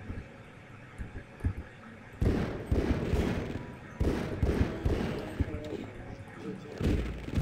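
Weapons fire in Half-Life 2 comes as several loud, sharp bursts separated by quieter stretches, with rapid repeated shots clustered in each burst.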